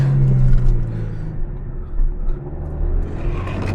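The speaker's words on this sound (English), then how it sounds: "here we are on the drive on our Toyota Tacoma" 2026 Toyota Tacoma TRD Off-Road with a manual gearbox driving along, a steady low cabin rumble of engine and road noise with slight swells, heard from inside and with no talking.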